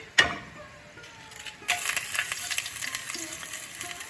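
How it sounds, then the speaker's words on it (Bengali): Tempering spices hit hot oil while cooking a mixed fry of pui, kalmi and red leafy greens, giving a sharp crackle at the start, then a louder sizzle that swells and stays bright and close to the end. "এবার আমি ফোড়নটা দিয়ে দিচ্ছি"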